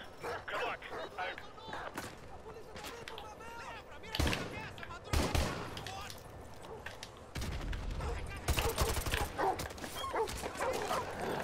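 Shotgun blasts boom out during Call of Duty: Modern Warfare 2 Remastered gameplay. Several loud, sharp shots come at uneven intervals over busy game noise, with a voice talking throughout.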